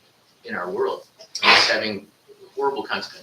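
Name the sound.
sneeze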